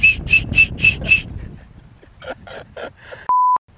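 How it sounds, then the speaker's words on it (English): A small safety whistle built into a wing foil safety device gives a run of short shrill blasts, followed by a few softer toots and a final steady electronic beep. "You even have like a small whistle in there"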